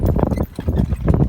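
Pony hooves clip-clop briskly as a pair pulls a carriage at a driving event, with a quick, even rhythm of close, loud hoofbeats and a short pause partway through.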